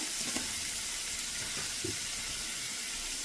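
Beans with salt are stirred in a pan over a constant close sizzle, with a few soft scraping knocks of the spoon breaking through the frying hiss.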